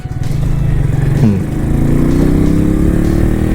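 An FKM Agimat 175 motorcycle engine runs on a test ride, a steady loud mid-pitched drone that rises smoothly in pitch as it revs up and accelerates, close and alone.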